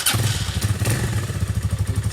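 A three-year-old Braaap ST 250 motorcycle engine idling close by, a steady low, even putter with a slight mechanical clatter, loud and alone.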